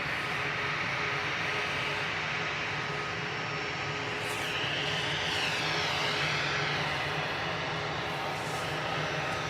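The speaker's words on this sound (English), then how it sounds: "Ryanair to Gothenburg going next, flight 3088. This is EIDYX at 737-800." Ryanair Boeing 737-800 EI-DYX rolls for takeoff toward Gothenburg at Manchester Airport, producing an unbroken, loud jet roar with a brief rising whine partway through.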